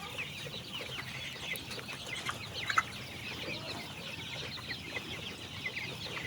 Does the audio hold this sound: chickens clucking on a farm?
yes